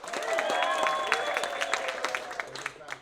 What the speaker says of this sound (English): You're going to clap and cheer for this person.